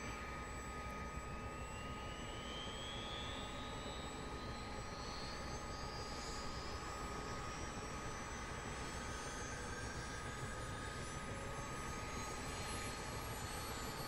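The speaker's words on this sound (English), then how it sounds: "That's going to come up to ground start and we're going to start engine 2." Engine 2 of a CH-47D Chinook helicopter starting up in a flight simulator game: a rising turbine whine climbs steadily over a constant, fairly quiet engine hum, with no talking.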